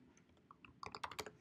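Quick, soft clicking keystrokes on a computer keyboard, sparse at first and then a fast burst near the end, close and quiet with no talking.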